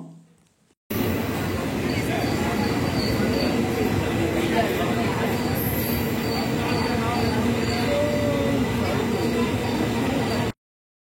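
A train rumbles steadily along the rails through the Western Ghats between Thiruvananthapuram and Tiruchirappalli, heard from inside a carriage, with a constant loud roar and faint high squeals over it.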